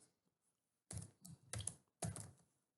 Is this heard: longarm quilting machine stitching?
no